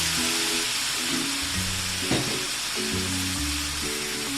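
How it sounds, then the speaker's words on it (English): Pork pieces sizzling in hot oil as they fry for adobo, a steady loud hiss throughout with a low hum beneath and a brief stir or clatter midway. "So you're hearing now the sizzles."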